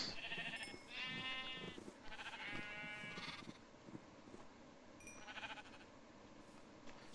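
Several sheep in the Minecraft video game bleat in short, wavering cries, three bleats close together then another after a pause, over a quiet ambient background.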